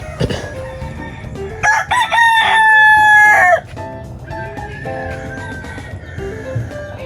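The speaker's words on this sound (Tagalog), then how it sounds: "Daming manok ni Kuya Ramil" A rooster crows loudly and clearly for a couple of seconds, surrounded by clucking chickens and other fowl close by, in a yard where the chickens are kept for sale.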